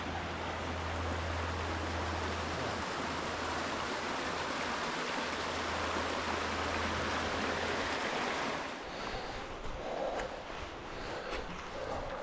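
Clear creek water rushing steadily over rocks toward the Susquehanna, a loud, close, continuous wash that eases slightly near the end.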